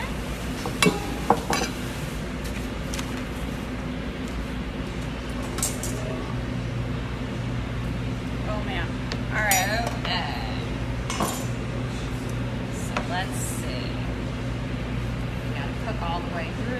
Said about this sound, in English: Get all our dishes out of the way.